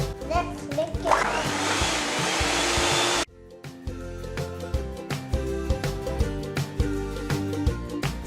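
An electric mixer whips Dalgona coffee, a steady loud motor whine for about three seconds that cuts off abruptly, followed by a quieter stretch of clinking and knocking.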